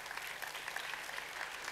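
A church congregation applauds loudly, a steady dense patter of clapping that holds evenly throughout without any voices over it.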